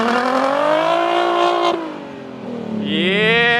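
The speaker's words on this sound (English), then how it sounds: "So rev it up. Remember, drop the clutch and floor it." A drift car's engine revs hard in a long, loud sustained run, dips briefly as the clutch drops, then climbs again as it is floored, with rising harmonic whine.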